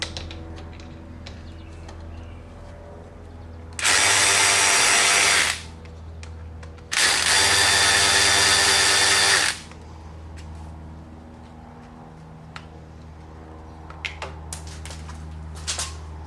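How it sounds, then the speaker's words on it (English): A power ratchet loosens bolts on a 2022 Harley-Davidson Sportster S motorcycle, sounding in two loud whirring bursts of about two seconds each, with quiet clicks and handling noises between. "When you're using these ratchets, just make sure that you crack the bolt loose before you turn it on."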